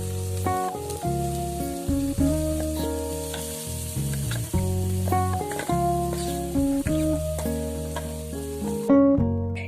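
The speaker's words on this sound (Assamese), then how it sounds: "এতিয়া এই গাজৰখিনি 5 পৰা 7 মিনিট ভালদৰে ভাজি ল'ম।" Grated carrots sizzle in hot melted ghee for carrot halwa. A steady frying hiss runs throughout under louder background music.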